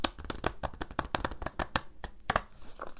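Tarot and oracle cards being shuffled by hand, a rapid run of crisp riffling bursts with brief pauses, close and clear, with no talking.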